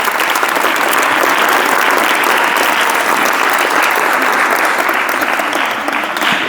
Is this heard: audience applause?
yes